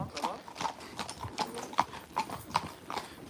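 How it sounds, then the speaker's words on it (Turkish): Horses walk along with hooves clip-clopping in an even rhythm of about eight close, crisp strikes, while people talk over them. "Atlar gidiyor ya."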